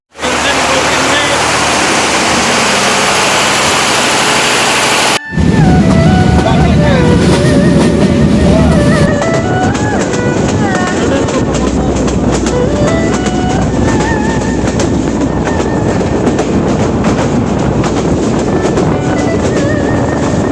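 A train rolls along a rural line near Pirgachha station on the Pirgachha–Rangpur route in Bangladesh, a loud, continuous rumble with clattering wheels heard from on board, after a sudden jump in level.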